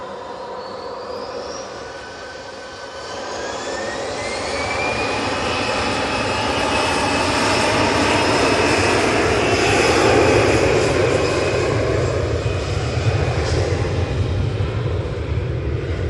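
Airliner starting its takeoff near Tampa International Airport, a loud jet engine roar swelling over several seconds, with a rising whine climbing in pitch, then holding a sustained powerful rumble throughout, no speech.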